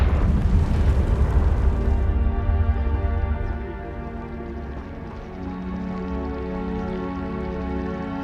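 A Confringo fire spell bursts in the Hogwarts Legacy game, a loud rumbling blast that slowly decays over about eight seconds, with sustained tonal magical ringing and crackle beneath it.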